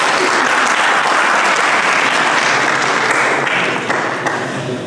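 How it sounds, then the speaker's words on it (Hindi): Loud, sustained audience applause fills the whole stretch at a school Republic Day function, a dense steady wash of clapping from a crowd that tapers slightly at the end. "एक जोरदार ताली बजा दीजिए।"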